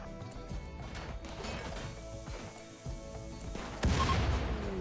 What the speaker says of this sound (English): Yeah, that wasn't a good explosion there.